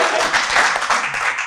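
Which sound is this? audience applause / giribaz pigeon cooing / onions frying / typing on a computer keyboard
audience applause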